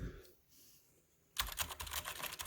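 Typing on a Durgod Hades 68 mechanical keyboard with brown switches, a quick run of close, clicky keystrokes that starts suddenly after a quiet moment.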